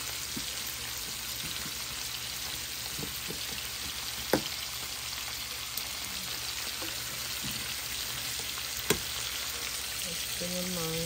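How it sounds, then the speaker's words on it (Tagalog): Vegetables stir-frying in a hot pan give a steady, dense sizzle throughout, with a few sharp clinks of a utensil against the pan and no talking. "And then, I'm gonna fry some vegetables."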